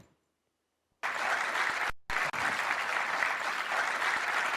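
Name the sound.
audience applause at awards ceremony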